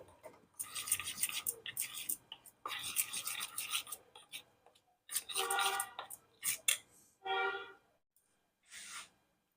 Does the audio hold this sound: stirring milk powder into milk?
yes